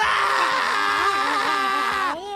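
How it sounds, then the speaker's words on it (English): Loud, sustained cartoon yelling from a sheep character in a busy big-city setting, a strained, wavering cry lasting about two seconds before breaking off abruptly. "And the yelling?"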